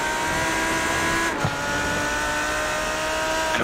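A Lamborghini V10 engine in an iRacing GT3 championship race holds a loud, steady high-pitched roar with a brief gear-shift dip, then carries on droning.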